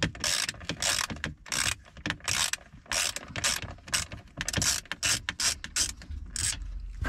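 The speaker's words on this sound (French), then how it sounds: "Vous allez prendre une Torx de 20. Et après, il suffit d'enlever les vis." Torx 20 screws are being backed out of a Renault Clio 4 head unit, making repeated close ratcheting clicks in short bursts with brief pauses between turns. No voices are heard.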